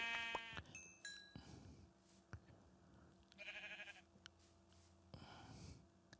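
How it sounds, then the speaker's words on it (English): Sheep bleats in the video game Minecraft, a few short separate calls among soft game effects and clicks, quiet and spaced out. "Oh, sheep."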